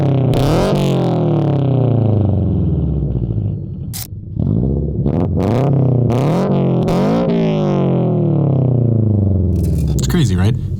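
A car exhaust fitted with a Tomei midpipe revs hard and loud, pitch sweeping down through several gear changes, with short lifts and fresh surges of acceleration close by.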